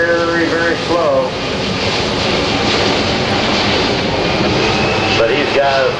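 A C-5M Super Galaxy flies slowly past at an airshow with flaps and landing gear down, its loud, steady engine roar filling the air while a voice speaks briefly at the start and end.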